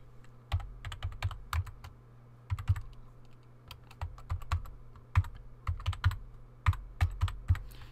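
Brisk typing on a computer keyboard, steady close key taps in uneven clusters with brief pauses between them.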